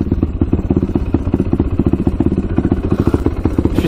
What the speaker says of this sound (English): She stays idling.